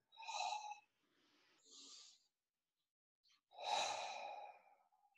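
Deep abdominal breaths during a yoga pose, three audible breath sounds: a sighing exhale, a softer breath, then a long full exhale after a pause, close and quiet with no talk.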